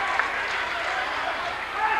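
Crowd in a gym during a 1995 boys' high school district final basketball game, a steady, fairly subdued murmur of spectators with scattered claps and a slight swell at the end.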